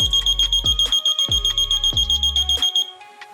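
A shrill electronic buzzer in a light-sensor alarm circuit beeps in a rapid, steady series of pulses, loud and close, while deep thumps sound underneath, then it cuts off.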